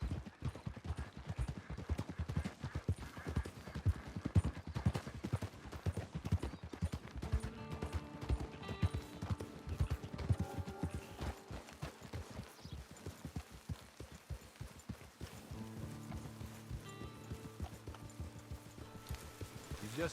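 Horse hooves in Red Dead Redemption 2 Online, a steady rapid clip-clop of a horse on the move that keeps going throughout under soft musical tones.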